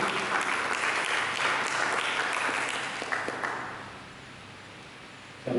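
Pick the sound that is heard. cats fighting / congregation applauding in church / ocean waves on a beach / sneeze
congregation applauding in church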